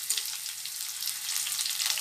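Garlic and whole dried red chilies frying in hot mustard oil for a tadka, a steady bright crackling sizzle that holds for two seconds with no voices.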